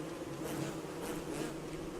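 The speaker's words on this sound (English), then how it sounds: "I want to be really careful around the killer bees." A steady, close swarm-like drone of killer bees in the video game Don't Starve, continuous and even throughout with no talk over it.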